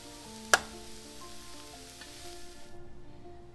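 Leeks and cabbage sizzle softly while they caramelize in a pan, a steady low frying hiss with one sharp clack early on, close by and faint.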